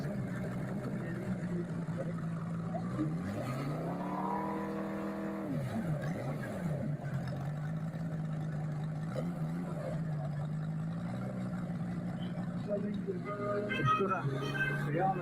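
A steady engine drone with rising and falling pitch sweeps as an RC model plane fitted with a FIALA 250 five-cylinder radial engine runs and changes throttle, heard continuously and fairly far off, with people talking underneath.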